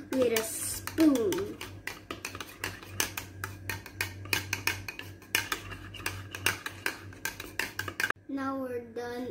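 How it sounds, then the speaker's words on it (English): A spoon knocks and scrapes rhythmically against a bowl while stirring banana batter, a rapid run of close clinks that carries on steadily, with someone speaking at the start and end. "next up, mixing it with a spoon"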